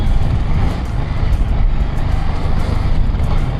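A BMW F450 GS motorcycle accelerating in second gear puts out a loud, continuous engine roar with wind rush, held steady throughout and with no talk.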